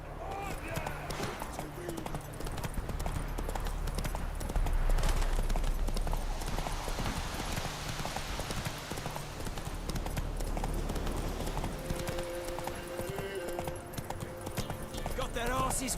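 Hooves of Geralt's horse Roach galloping steadily in The Witcher 3 game, a fast repeating clip-clop running throughout under game music and a speaking voice.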